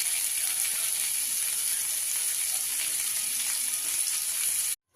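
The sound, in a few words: potatoes frying in a pan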